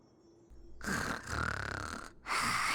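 A Genshin Impact character snores in a game scene, with two long, close, rough rasping snore breaths and a short pause between them, heard alone.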